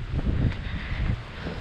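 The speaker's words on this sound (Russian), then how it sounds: "Какой ветер сильный." Strong seaside wind in Anapa buffets the microphone in low, rumbling gusts, a steady roar with no voices.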